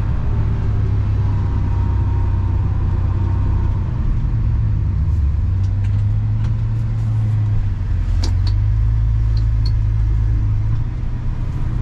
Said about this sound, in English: this truck runs nice. It really does.